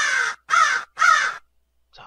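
A crow cawing three times in a steady rhythm, loud, harsh and close, followed by a faint shorter call after a pause.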